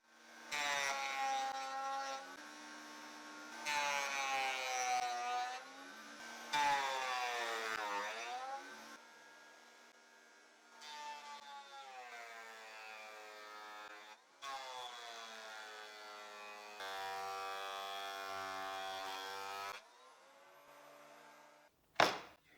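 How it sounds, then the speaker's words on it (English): Thickness planer cutting wooden boards down to 20 millimetres, rising into repeated loud, whining bursts as each board feeds through, separated by quieter idling gaps, ending with a sharp clunk. "I'll run them through the thickness planer to standardize the thickness to 20 millimeters"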